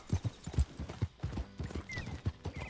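Horse hooves clip-clop at a gallop in Red Dead Redemption 2, a steady rhythmic beat close up with a short whinny partway through, heard without talk.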